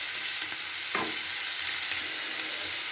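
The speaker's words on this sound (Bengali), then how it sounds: "দিয়ে খুব ভালো করে এটাকে মিশিয়ে নিচ্ছি সমস্ত সবজিগুলোকে একসাথে" Capsicum and mixed vegetables sizzle steadily in a hot frying pan for soup, with a few soft scrapes of stirring against the pan over a constant frying hiss.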